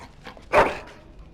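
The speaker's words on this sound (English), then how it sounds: "Bloody dog." A dog in the video game Dragon Age Origins gives a short whimpering yelp, a single brief close vocalization over faint background.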